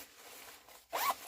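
An extra-small, very lightweight Disney rain jacket's zipper pulled once in a quick, bright zip lasting about a quarter second, close and clear after a quiet rustle.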